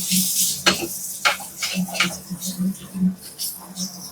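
Chili powder is stirred into mutton head curry in a pan, with a spoon scraping and clinking against the metal in irregular strokes over a soft sizzle, close by, while a person talks throughout.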